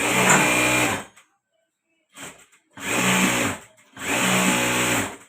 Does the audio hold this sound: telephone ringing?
no